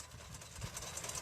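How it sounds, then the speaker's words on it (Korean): A tractor with a rear-mounted garlic harvester working in a field produces a steady, moderately loud low engine drone with a rough, even rumble throughout. "트랙터 후면 부착형 마늘 수확기 수확 모습을 동영상으로 한번 보시겠습니다"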